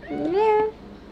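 A single clear meow from a cat in the Toca Boca World video game, rising and then falling in pitch and lasting under a second, up close over a faint background.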